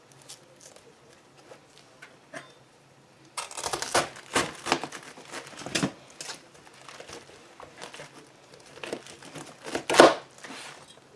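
A knife cutting up a head of cabbage on a board for a New Year's corned beef and cabbage meal, with crunchy slicing and crinkling cuts in bursts, loudest near the end, close and alone.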